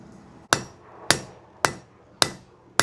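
A blacksmith hammers a tapered iron bar to square it up while forging a medieval rush light holder, with five sharp, ringing metal strikes at a steady, unhurried rhythm, close and loud with no talk.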